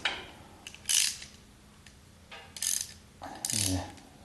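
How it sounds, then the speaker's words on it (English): A ratchet wrench clicks in several short bursts while tightening sway bar bolts on a 1976 Corvette restomod, close and fairly quiet with pauses between strokes. "I always get confused when I've got the wrench upside down."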